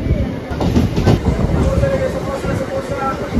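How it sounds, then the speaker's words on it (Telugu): A Rajahmundry–Visakhapatnam MEMU Express train, number 07466, rumbles along the rails just after pulling out of Dwarapudi station, a loud, close, continuous rolling drone with faint rhythmic clatter. "సో ద్వారపుడు రైల్వే స్టేషన్ నుంచి అయితే స్టార్ట్ అయిపోయింది మన ట్రైను"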